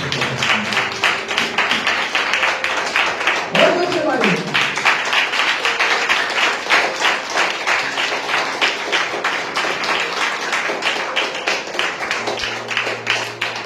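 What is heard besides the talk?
congregation clapping loudly during sermon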